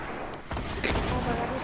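Rocket fire and explosions in an online shooter game, a couple of heavy booming blasts in quick succession, loud and close, with a voice reacting briefly between them.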